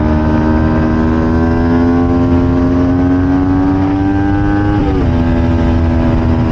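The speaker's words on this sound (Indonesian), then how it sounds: "Sini saya coba tes knalpot Crossfit Python." A loud Kawasaki Ninja 250 FI engine with a Prospeed Crossfit Python aftermarket exhaust drones with a deep, throaty note, rising gradually in pitch before a quick blip and settling back to idle.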